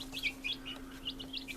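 Month-old chickens hatched in an incubator give short, high chirps in quick bursts, fairly near and soft, over a steady low hum.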